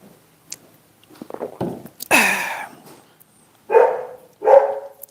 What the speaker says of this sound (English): Henry's, he's barking at Jakota